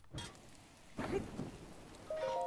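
Rain falling in the Zelda: Breath of the Wild video game, a steady wet patter with low rumbling swells that could be distant thunder, and a brief tonal game chime near the end.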